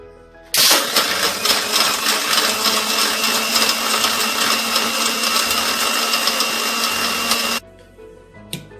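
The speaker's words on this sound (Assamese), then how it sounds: "মই 40-45 ছেকেণ্ড ভালদৰে মিক্সাৰত মিক্স কৰি ল'লোঁ" An electric blender whirs loudly and steadily for about seven seconds, mixing cold coffee with sugar and ice cubes, then cuts off abruptly, leaving quiet kitchen sounds behind.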